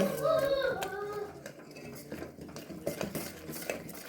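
Rice flour being mixed vigorously in a bowl, a spoon scraping and clattering continuously against the sides, with a voice briefly audible at the start.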